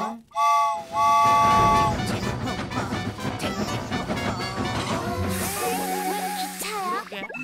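A train whistle toots near the start of a Pororo animated cartoon, followed by a busy, rhythmic rolling train sound mixed with bright musical tones that continue to the end.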